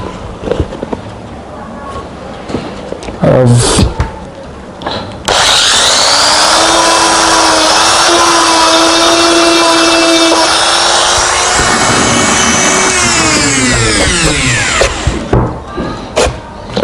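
A loud, sustained abrasive grinding scrapes material off a pair of customized jeans sneakers, running steadily for about ten seconds, with brief scuffs and handling noises before and after it.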